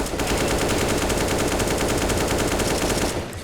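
An AK rifle fires continuously on full auto in CS:GO, a fast, steady, loud rattle of shots running nearly three seconds before stopping abruptly, with no talk.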